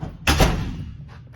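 An Otis traction elevator arrives at Lakeside Tower in Chicago with one sharp, near thump like a door or car landing, then a low fading rumble and a faint knock.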